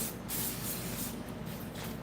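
A household cleaner is sprayed from a bottle in a steady, continuous hiss that runs for a couple of seconds, close by and fairly quiet, with no talking.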